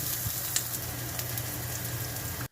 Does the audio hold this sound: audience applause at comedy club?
no